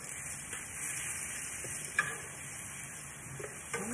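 Garlic frying in a pan for a Mexican stewed beef dish, a soft steady sizzle close up with a few faint clicks of a utensil.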